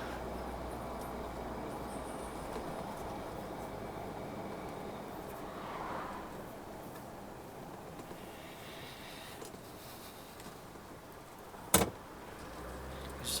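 Road traffic passing on a country route near Malton, a steady distant rumble of vehicles with a brief sharp knock near the end.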